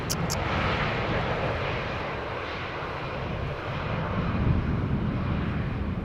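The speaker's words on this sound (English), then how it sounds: "another KLM 737 has landed here just now" A KLM Boeing 737 airliner lands at Schiphol Airport, its engine roar loud and steady, a broad rumbling wash of jet noise that swells slightly toward the end with no voices over it.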